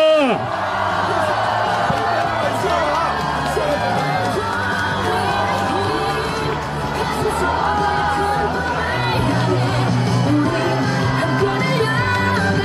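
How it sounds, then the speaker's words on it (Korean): A large outdoor crowd at a South Korean election campaign rally near Seokchon Lake in Songpa, Seoul, whoops, shouts and cheers over loud amplified music, a dense sustained roar that carries on throughout. "여러분, 큰 박수 부탁드립니다."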